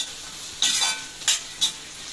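Ivy gourd sautéing in oil, a low continuous sizzle with three brief bursts of louder hissing as the pieces are stirred.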